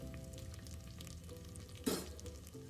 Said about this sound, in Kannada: ಮೂರು ಮೆಣಸಿನ್ಕಾಯಿ ಹಾಕ್ತಿದ್ದೀನಿ